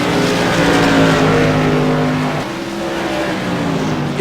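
Modified race cars of the CRA Modified Madness Tour at Thompson Speedway roaring past, a loud, close engine howl with pitch sliding downward as they pass, continuous and dense.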